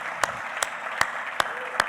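A church congregation applauds in a steady wash of clapping, with a few louder, evenly spaced claps standing out roughly every 0.4 seconds over the background.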